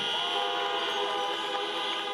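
At a US presidential campaign rally amid the COVID-19 pandemic, several car horns blare at once in a continuous, overlapping chorus of honking, fairly loud and sustained without a break.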